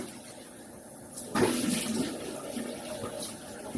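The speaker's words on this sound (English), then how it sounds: "Now to rinse it off." Running water rinses soap off, heard as a sudden loud gush of flowing water that starts partway through and continues steadily close by.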